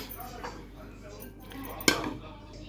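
Dishes and serving utensils clink while pulao is plated for an Eid meal at home, faint clatter under a steady background hum with one sharper clink near the end.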